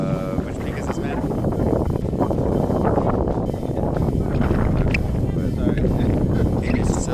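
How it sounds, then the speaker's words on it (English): Constant strong wind roars across the microphone on a cloud-covered mountain peak at Laoshan near Qingdao, a dense rumbling buffet with no let-up. "It is so windy out here."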